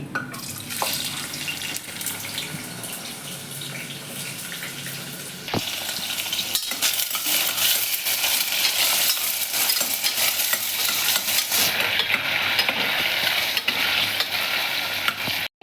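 Chopped onion sizzling in oil with mustard seeds and cumin in a pressure cooker, stirred with a utensil: a steady, close hiss of frying with scraping and clatter, growing louder and busier partway through.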